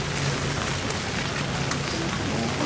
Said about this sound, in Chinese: 下雨我们就稍微快一点哦